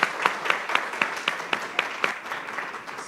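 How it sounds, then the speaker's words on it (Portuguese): Workshop audience at a national children's and youth choir festival claps in an even, rhythmic beat, roughly four claps per second with a softer crowd wash beneath, fading slightly toward the end without speech. "Give him a hand."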